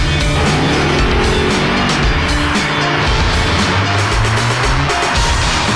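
A sports car engine revs hard and accelerates continuously while tires squeal, loud and close with a steady roar throughout and no voices.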